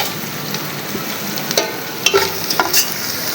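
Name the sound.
whole spices frying in pot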